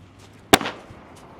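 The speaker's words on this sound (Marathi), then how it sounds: "ए कडला वा की फटाके वाजवायलोय" A single firecracker bursts with one sharp, loud, close crack that dies away quickly, set against a quiet background.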